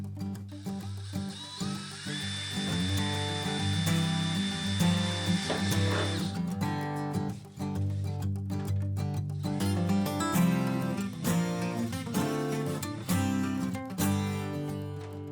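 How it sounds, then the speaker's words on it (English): A drill fitted with a number 40 bit bores pilot holes in an aircraft wing near the inboard rib while fuel lines and tank fittings are being built. A steady high whine rises and holds for about six seconds, then gives way to dense, busy sound. "I drilled the pilot holes using a number 40 drill bit in each location that I had marked after measuring from the lower surface of the wing"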